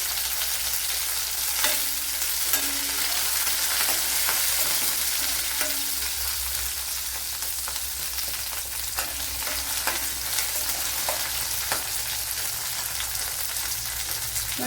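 Garlic, green chilies and curry leaves sizzle and crackle steadily in hot oil in a pan, a continuous close frying hiss with scattered small pops and occasional stirring clinks, no voices.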